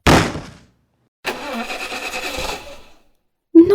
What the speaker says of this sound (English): turning the key again. But the engine refused to cooperate.